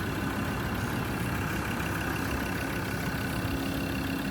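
A 3.2 litre P5AT turbo diesel engine in a 2011 Ford Ranger idles steadily nearby, a constant rumbling drone with no change in pitch.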